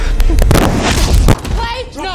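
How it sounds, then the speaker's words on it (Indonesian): A heavy gunshot bursts out in an action film, loud and close, with a dramatic score and voices around it. "tiba-tiba tembakan itu tepat mengenai Derek"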